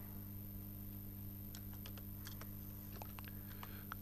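Code is typed on a computer keyboard in quick, light clicks that come in short bursts, faint under a steady electrical hum.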